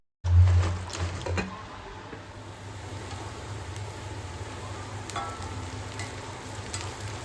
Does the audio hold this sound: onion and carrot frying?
yes